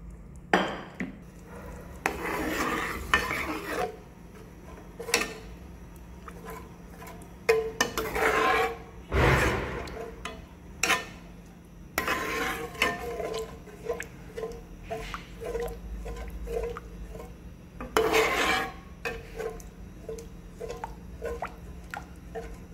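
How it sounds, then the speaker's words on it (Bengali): Dal being stirred into thick, cooked-down tomato puree in a pot for dal makhani, with repeated wet scraping and squelching strokes alongside intermittent clinks of the spoon against the pot, close and moderately loud. "এভাবে ডালটা মিক্স করে নিলাম"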